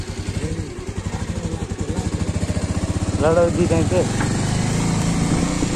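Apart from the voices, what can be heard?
motorcycle engine while riding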